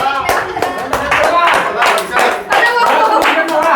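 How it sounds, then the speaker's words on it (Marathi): A group claps their hands in a steady, fast rhythm at a paralysis rehabilitation centre, loud and close, with voices calling out over the clapping. "टाळ्या क्लॅप क्लॅप क्लॅप"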